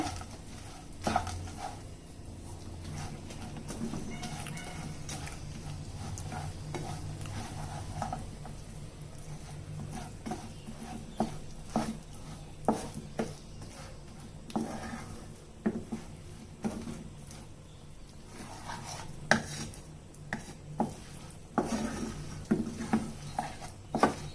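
Crushed roasted gram being stirred into melted jaggery in a pan, with soft repeated scraping and occasional spoon taps against the pan, quiet and continuous over a long stretch.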